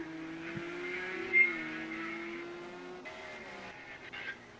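A BMW race car on circuit in a TNR round in Austria, a sustained engine whine with shifting pitch and gear changes, plus a brief tyre squeal, heard fairly faintly and without talk.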